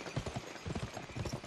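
Horse hooves clip-clop at a steady trotting rhythm in the Western action game Gun, a moderately close run of soft repeated thuds with no talking over them.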